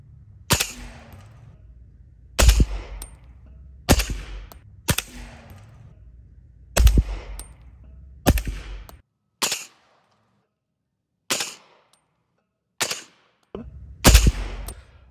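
About ten single shots from a rifle fitted with a Dead Air Sandman S suppressor, firing subsonic .223 ammunition: sharp, muffled cracks spaced a second or two apart, each with a short decaying tail, nearby and with no talk.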